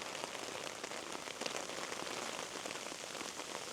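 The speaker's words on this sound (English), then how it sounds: "It's not even rain, it's hailstoning." Hailstones fall on a tarp at a woodland camp in a dense, steady patter, a continuous wash of many small impacts at moderate loudness, with no voices.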